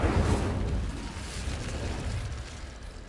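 An Incendio fire spell in Hogwarts Legacy bursts open with a loud, deep whoosh and boom that fades into a rumbling fiery roar over about three seconds.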